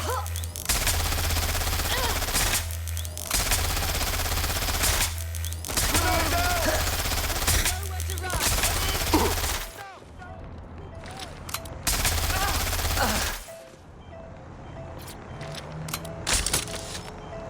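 Dense, sustained gunfire from the video game Watch Dogs: Legion, with bursts of rapid shots filling the mix, brief pauses between volleys, and faint game voices and effects underneath.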